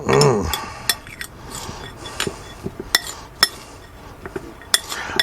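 A utensil scrapes and clinks irregularly against a bowl while bacon, cheddar, ranch and red onion are stirred together for pull-apart bread. Close, sharp taps come at an uneven rhythm over soft background rustle.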